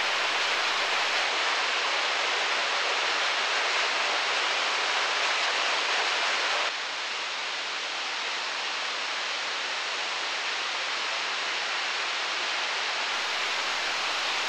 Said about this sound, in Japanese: コース最初に隅和川沿いにある神の滝 大きくはないけれどその姿はハイカーの心を和ませます